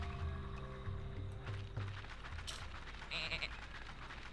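A sheep bleats faintly in the video game Tak and the Power of Juju, a brief wavering cry under quiet game music and ambience.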